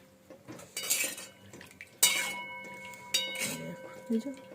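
Metal clinks and scrapes as a slotted spatula lifts cooked spinach out of a pot of potato and greens, several close utensil knocks against the pan under a few quiet words.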